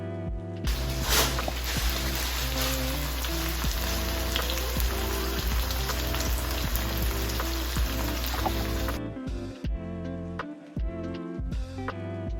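Shaking beef for Cambodian beef lok lak sizzles loudly in a hot pan, a dense crackling hiss like rain that holds steady. It drops out briefly near the end amid a few clanks.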